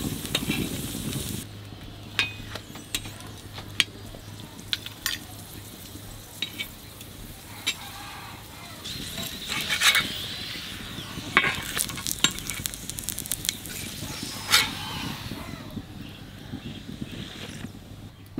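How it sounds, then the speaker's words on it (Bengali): Stuffed parathas frying in a little oil on a tawa, a low steady sizzle broken by frequent sharp clicks and scrapes of a spatula turning them. "এবার অল্প তেল দিয়ে তাওতে কটা ভাজবো"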